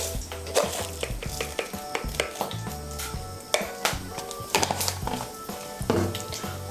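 Cinnamon, cardamom, cloves and cumin seeds sizzle quietly in hot oil while a spoon clinks and scrapes against the pan in irregular stirring strokes, close by.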